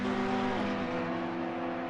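Race cars, an Audi and a Porsche, in a racing video game at Monza near the Parabolica curve, give a steady, loud engine drone that holds its pitch and then shifts slightly, with no talk over it.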